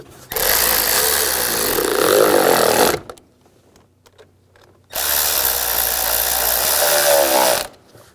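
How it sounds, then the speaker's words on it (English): A power driver tightens a worm clamp on the air intake tube of a 2007–2016 GMC Acadia, two loud whirring bursts of roughly three seconds each with a quiet gap between them. "And snug down the worm clamp."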